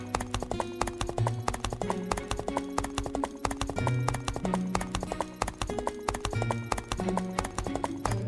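Horse hooves clip-clop at a steady walking pace, close and clear, as a horse is led toward a village dharamshala; tonal background music plays throughout under the hoofbeats.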